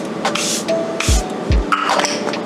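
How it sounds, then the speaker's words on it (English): Several short, breathy hisses of a Charlotte Tilbury makeup setting spray bottle, fine mist bursts spaced apart, close by and fairly quiet, with light handling clicks between them. "I'm even gonna go ahead and take my Charlotte Tilbury setting spray"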